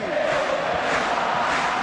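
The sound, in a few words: stadium crowd applauding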